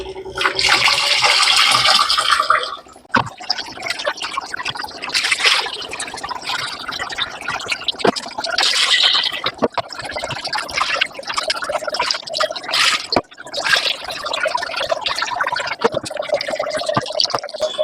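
Soaked rice being washed in water, with continuous sloshing, swirling and pouring of water throughout, close and fairly loud, with a few brief pauses and no talking.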